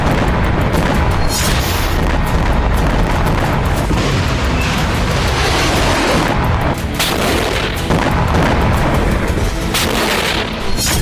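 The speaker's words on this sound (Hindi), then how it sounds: "घातक मिसाइलों से हमला, ताबड़तोड़ रॉकेट से प्रहार और आत्मघाती ड्रोन से विस्फोट" Explosions from missile, rocket and suicide drone strikes in a news report on Hezbollah attacks on Israel: loud, dense, continuous booming and rumbling blasts that fill the whole stretch, with no talking.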